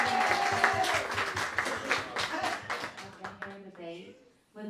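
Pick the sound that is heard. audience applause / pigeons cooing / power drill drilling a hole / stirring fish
audience applause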